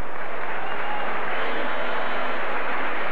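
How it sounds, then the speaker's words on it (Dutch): A stadium crowd at a 1984 UEFA Cup football match between Anderlecht and Spartak Moscow applauds a player leaving the pitch on a substitution, giving a dense, sustained wash of clapping heard from a distance. "Ofkes gaat eruit met een verdiend applaus"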